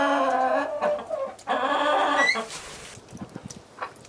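Chickens cluck and squawk close by outdoors on a farm in warm weather. There are a few loud, drawn-out calls at first, then softer, scattered clucks.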